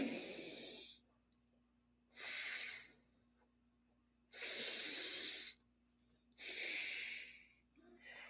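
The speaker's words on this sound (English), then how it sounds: "the best way to is like to breathe in through your nose and out through your mouth" Slow, deep breaths drawn in through the nose, four long airy inhales with quiet gaps between them, close and clear.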